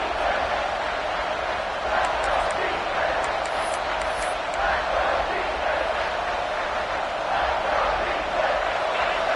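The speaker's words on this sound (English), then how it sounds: "This crowd is trying to inspire this defense to make a big red zone stop." Loud, sustained roar of a large American football stadium crowd urging on the defense in the red zone, a dense wall of cheering and shouting that never lets up.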